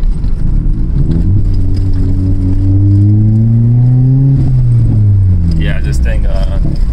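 A Toyota MR2 Spyder fitted with a DIY turbo kit running about 5 PSI accelerates hard in second gear, its engine note climbing steadily in pitch, loud and close from inside the car, then easing off near the end.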